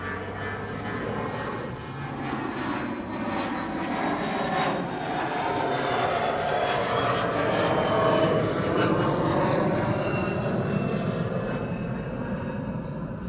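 Air Force One jet departing Schiphol airport, a broad continuous engine roar with rising whine heard from a distance, steady and building slightly as the aircraft climbs away, with no talk over it.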